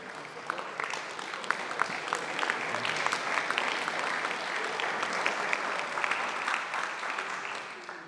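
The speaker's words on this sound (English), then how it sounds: "Big round of applause for Connor Grieve." Attendees at a Braintree town council meeting give a big round of applause, a sustained crowd clapping at moderate volume with crisp individual claps standing out throughout.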